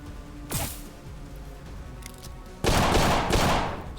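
Gunfire in Colony Ship: A Post-Earth RPG, with a sharp shot near the start, a few scattered cracks, then a loud sustained burst of shooting in the last second and a half.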